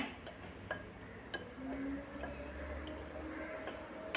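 Ingredients being mixed together in a dish, with faint scattered clinks and ticks of a utensil against the bowl over a low steady background hum, close but quiet, with no talk.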